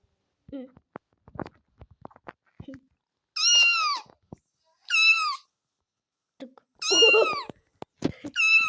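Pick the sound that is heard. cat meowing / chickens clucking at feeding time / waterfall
cat meowing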